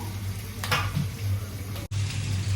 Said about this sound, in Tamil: அதுக்கும் ஒரு வெங்காயம் கட் பண்ணி ஃப்ரை பேன்ல போட்டிருக்கேன், ஆயில் ஊற்றி